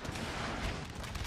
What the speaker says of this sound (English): There we go, cannons hitting already.